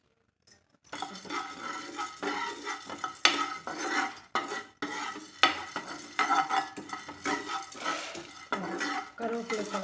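Roasted gram (pottukadalai) being dry-roasted and stirred in a pan for idli podi, with a steady rattling, scraping stream of small grains against metal and frequent clinks of a spoon, fairly close and continuous.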